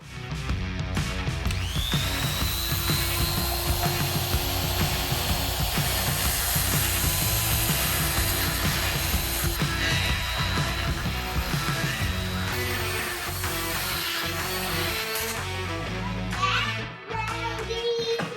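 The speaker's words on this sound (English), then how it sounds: "Here's my die grinder. I'm going to use this double cut burr grinder." A die grinder fitted with a double cut burr grinds metal on a sticking vise, a loud, continuous high whine with shifting tones as the burr cuts, lasting nearly throughout with a brief dip near the end.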